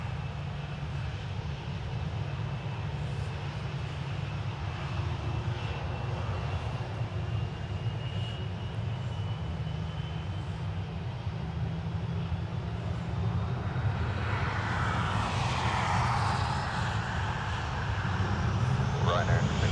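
An airliner takes off from runway 10 right at Dublin Airport with a steady, distant jet engine roar that swells louder toward the end, heard through faint radio chatter.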